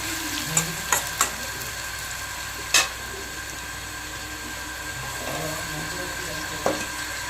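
Potatoes fry in oil, a steady sizzle with a faint crackle, broken by a few sharp clicks of a utensil against the pan.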